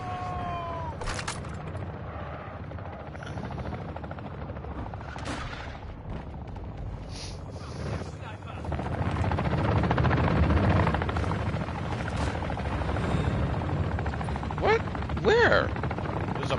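A bomb drone in Modern Warfare III buzzes overhead during a multiplayer match, a steady droning whine under bursts of distant gunfire, sharp impacts and scattered game voices, growing louder partway through.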